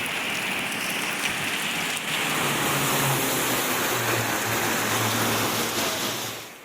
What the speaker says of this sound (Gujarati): આંધી તોફાનની સાથે અનરાધાર વરસાદ વરસ્યો